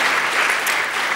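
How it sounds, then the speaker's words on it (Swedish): Sustained audience applause at a political panel debate in an auditorium, steady and dense clapping throughout with no voices. "Du ska få en applåd, det hördes i auditoriet."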